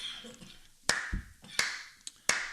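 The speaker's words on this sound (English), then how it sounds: "Sorry, I was clapping." Three sharp, separate hand claps with pauses between them, close and fairly loud, with faint background murmur and a few soft knocks in between.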